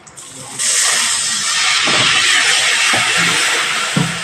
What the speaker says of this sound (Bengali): এখানে আমি একটু অল্প পরিমাণে জল দিয়ে দেব দিয়ে নাড়াচাড়া করবো যাতে পোড়া না হয়